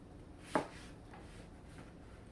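A knife slices once through an onion on a cutting board, a single crisp close cut in an otherwise quiet kitchen with faint room noise.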